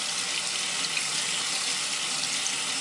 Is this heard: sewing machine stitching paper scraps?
no